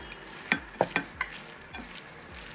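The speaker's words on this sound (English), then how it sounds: "I have to transfer it to a bigger plate. So I can really mix everything." Ground beef burger steak patty mixture gets worked together on a plate, giving a handful of close, sharp taps and clinks over a faint low background, with the knocks clustered early and then thinning out.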